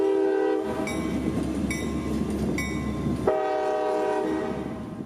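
Light diesel locomotives rumble past close by in Florida with a steady low drone, sounding sharp horn blasts in several short bursts followed by one long blast.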